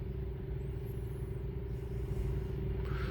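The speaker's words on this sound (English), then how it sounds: "water truck goes back to fill up again." A water truck idles and rumbles away at a drilling site, a steady low engine drone with a constant hum, moderately distant, with faint clatter and no talk.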